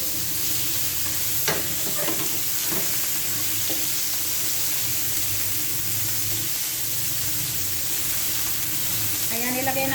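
Chicken pieces fry in hot oil with garlic, giving a constant loud sizzle and hiss with a few stirring knocks against the pan.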